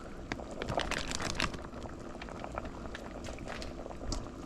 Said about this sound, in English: This will be dissolving soon in the hot water